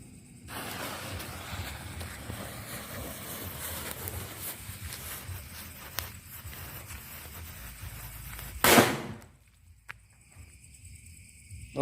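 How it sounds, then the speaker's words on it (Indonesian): A pack of six disco firecrackers goes off outdoors, a steady crackling patter for several seconds that ends in one sharp loud burst, then near silence. "Selanjutnya kita nyalakan satu pak petasan disco."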